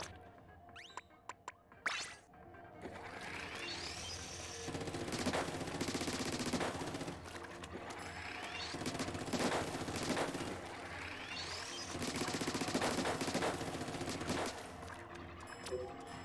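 Weapons test-fired in Splatoon 3, including a minigun, producing long sustained bursts of rapid fire with a spraying, splattering texture, rising and falling in waves after a few sharp opening shots.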